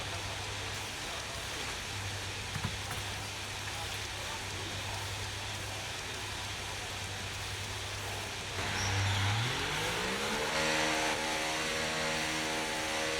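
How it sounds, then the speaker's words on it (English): A Formula 1 car engine in the F1 24 racing game holds a steady low drone, then surges into a loud rising rev partway through and settles into a higher sustained whine. "Okay, engines fired up, we're set."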